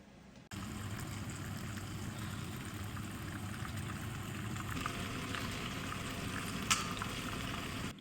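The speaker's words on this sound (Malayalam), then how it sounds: "ഒരു സൈഡ് ചിക്കൻ ഞാൻ വറുത്തു, അടുത്തത് ഇടവറുക്കാൻ ഞാൻ ഇട്ടിരിക്കുക" Chicken pieces frying in hot oil in a pan for Chicken 65 biryani, a steady, dense sizzle that starts abruptly and holds evenly throughout, close and moderately loud with no talking.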